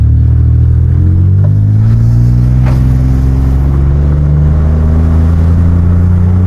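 A free minivan, just back from brake repairs, driving smoothly on the road: a loud, steady engine drone and road rumble fill the whole stretch with no gaps.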